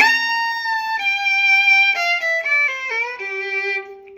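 A bluegrass fiddle plays a short, bright melodic lick alone, notes stepping downward in clear bowed tones, close and steady in volume.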